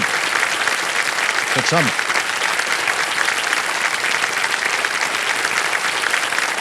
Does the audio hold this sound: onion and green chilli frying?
no